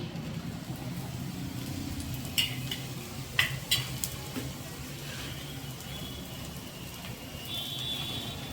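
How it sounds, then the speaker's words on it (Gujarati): Masala bhakhri flatbread cooks in oil on a low gas flame, giving a quiet, steady sizzle with occasional light clinks of a utensil against the pan. "આ ભાખરીને પણ ધીમા ગેસ ઉપર પાકવા દેશું ફરતી સાઈડ પણ તેલ લગાવી દેશું"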